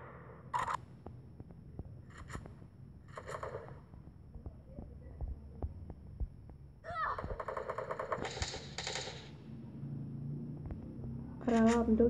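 Bursts of rapid video-game gunfire crackle in short volleys, with a longer sustained burst midway, while a person talks over the action.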